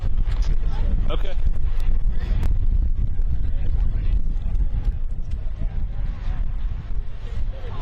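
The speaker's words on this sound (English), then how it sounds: "Wow, it sounds windy. You hear that? It sounds so windy." Strong wind buffets the microphone, a loud, continuous low rumble that fills the whole stretch without a break.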